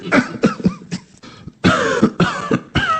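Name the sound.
coughing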